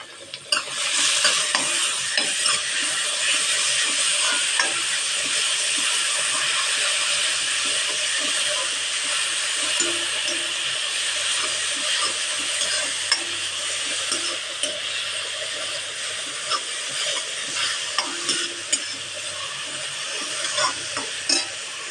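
Beetroot and carrot thoran being stirred in a pan with salt, a steady close hiss of cooking under frequent soft scraping stirs, continuous and fairly loud throughout with no talking.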